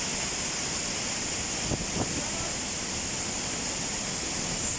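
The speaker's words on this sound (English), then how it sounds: "We're actually inside the waterfalls." Water thunders down inside a waterfall at Brecon Beacons, a dense, constant roar heard up close from within the falls, steady throughout with a couple of brief knocks.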